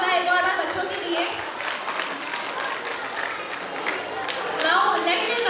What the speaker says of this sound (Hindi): जोरदार तालियां हो जाए एक बार बच्चों के लिए।